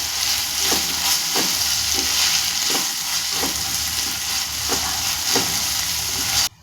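Tomato pieces fry and get stirred into a chilli chicken curry, giving a steady loud sizzle with a spoon scraping the pan roughly every half second, then the sound cuts off at the end.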